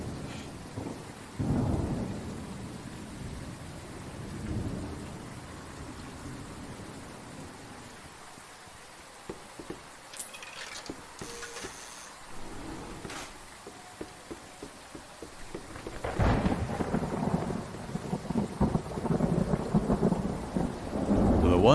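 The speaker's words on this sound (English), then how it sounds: "Come on, rain and clouds." Rain pours steadily in the video game Obenseuer, with deep rolling thunder swelling near the start and building into a loud, rumbling peak toward the end, no voices over it.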